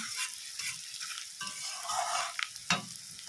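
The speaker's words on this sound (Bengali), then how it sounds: "পেঁয়াজটা আর একটুখানি ভাজা ভাজা করছি" Onions fry in hot oil with cumin seeds, giving a steady close sizzle broken by stirring scrapes and a couple of sharp clatters from a spatula against the pan, with no one speaking.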